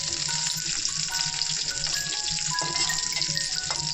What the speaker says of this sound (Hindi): चला दिया है, बस थोड़ी देर तक इसको ब्राउन ब्राउन होने देंगे।